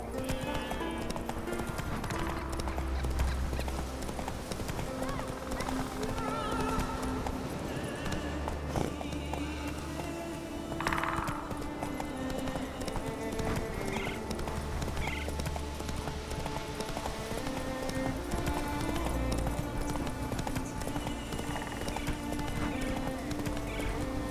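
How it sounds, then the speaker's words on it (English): Horse hooves clip-clop steadily under a ridden horse in the video game The Witcher 3: Wild Hunt, with occasional neighs over a constant game ambience. "Whoa there, Roach. Slow now"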